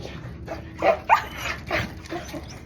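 A pet dog barks and yips in a short run of close, sharp bursts with brief whimpering between them, mixed with faint background sound.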